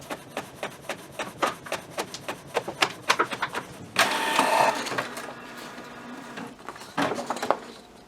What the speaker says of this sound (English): Go ahead and put some cardstock in the printer.